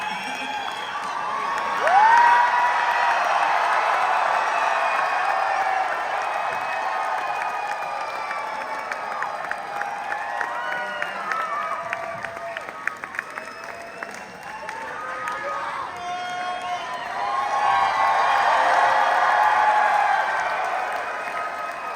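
A theater crowd of 1,600 at a packed RRR screening in a downtown Los Angeles theater cheers, whoops and applauds loudly throughout, swelling near the start and again toward the end.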